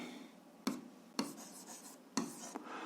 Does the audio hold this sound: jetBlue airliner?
no